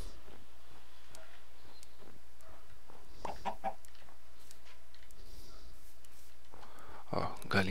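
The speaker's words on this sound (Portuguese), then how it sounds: "Ó, galinha legal." Chickens clucking in the Minecraft video game, soft scattered clucks and short calls over a quiet background, with a louder burst near the end.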